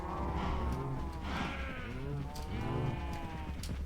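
Cattle lowing in a Minecraft farm game, several blocky-sounding moos overlapping one after another at close range, steady and moderately loud with a faint game ambience beneath.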